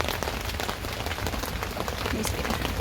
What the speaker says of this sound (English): These little bit rain's coming through.